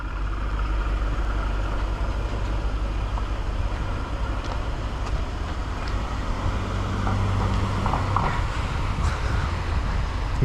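A 2000 Chevrolet Corvette C5 with a 5.7 liter V8 idles as a steady, low, throbbing rumble that holds at an even level throughout, with faint background noise and no clear voices.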